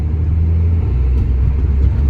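An Audi A3 drives along a road, giving a loud, steady low engine and tyre rumble that holds close and even throughout without a break.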